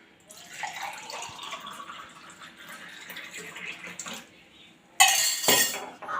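A drink is poured into a glass, a quiet trickle of liquid with light clinks of glassware, ending in a louder, brighter splash of pouring near the close.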